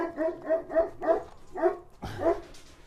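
Several dogs bark close by in a quick series of sharp, evenly spaced woofs, ending with a louder, rougher bark.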